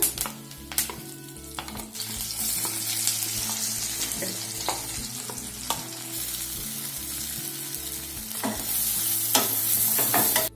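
Mustard seeds and curry leaves crackle and sizzle in hot oil with steady stirring, a continuous close frying hiss broken by sharp pops and spatula scrapes, with faint background music underneath.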